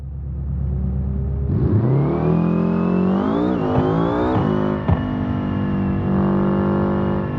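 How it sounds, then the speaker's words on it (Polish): A racing-game car with an automatic gearbox, played on a steering wheel, revs up from idle and then pulls away, the engine note climbing in stepped surges through gear changes and holding at high revs, loud and close, with no talk. "skrzynia weszła, wbiła najpierw silnik na obroty i puszczała ze sprzęgła tak, żeby samochód z, e, z optymalnych obrotów ruszał"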